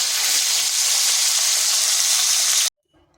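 Fish fries in hot oil in a pan with a loud, dense, steady sizzle that cuts off abruptly near the end, leaving near silence.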